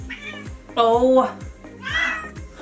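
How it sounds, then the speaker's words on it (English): Sochu, a pet cat, gives two clear meows close by indoors, one longer and one rising, while a voice briefly speaks over a soft rhythmic background. "That was our cat"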